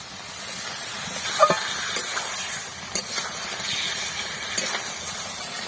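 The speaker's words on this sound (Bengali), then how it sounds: "ভালো করে নেড়ে নেড়ে কষিয়ে নিতে হবে" Marinated chicken masala cooking in a pan, a continuous hissing sizzle with occasional scraping knocks of a spoon stirring, close and fairly loud, no talking.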